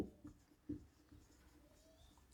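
Chalk or a marker taps and scratches in short strokes on a board during a Class 12 physics lecture on dispersion of light, faint and close in a quiet room.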